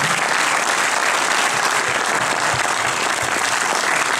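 Dense, steady applause from an audience at a film premiere, continuous clapping at even volume throughout.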